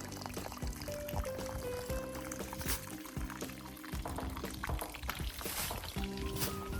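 Irrigation water runs steadily in a farm field with young papaya plants, a continuous close pouring and gurgling flow with a few faint knocks and tonal hums underneath.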